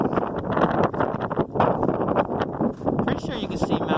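Strong wind buffets the microphone on a Mt Blue mountain summit in Weld, Maine during a winter snowshoe hike, a continuous roaring gusty rush with a person talking underneath.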